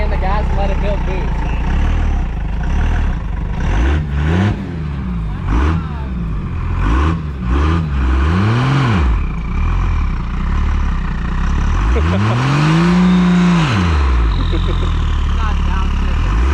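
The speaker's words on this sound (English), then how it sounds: "Hold your foot on the brake and the gas and let it build boost" A 2nd-gen Cummins diesel pickup engine revs in several rising and falling surges while held on the brake to build boost, the longest swell near the end, with voices talking over the idle between pulls.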